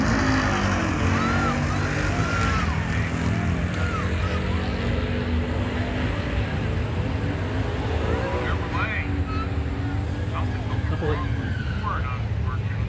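Drag racing cars at a factory appearing stock tire event, with a blue 1966 Chevelle on bias ply tires racing in the left lane, roar steadily with broad engine noise and a crowd wash under a commentator's talk.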